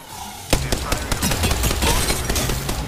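Rapid automatic gunfire in an Apex Legends match bursts in suddenly after a short quiet lead-in, then rattles on in loud, close, uneven volleys for the rest of the moment.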